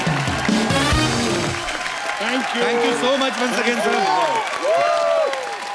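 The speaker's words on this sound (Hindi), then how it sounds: "एक बार सिन्हा परिवार के लिए जोरदार तालियां हो जाएं।" Audience applause for the Sinha family on a Hindi comedy show stage, a steady round of clapping from a studio crowd running under a host's thank-you and continued talking throughout.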